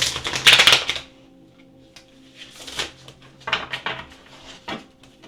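Tarot cards being shuffled by hand, a loud riffling burst at the start followed by softer intermittent card slides and taps, close and with no talking.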